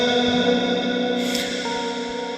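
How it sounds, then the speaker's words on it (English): An electric guitar, a clean Stratocaster tone through a stock reverb plugin, rings out with a wash of reverb, sustained notes blooming and lingering in a spacious echoing tail. "First effect is a reverb."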